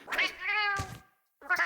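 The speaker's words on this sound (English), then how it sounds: "Cat." A Palico, the cat companion from the Monster Hunter video game, gives a clear, close meow, then another short meow after a brief silence.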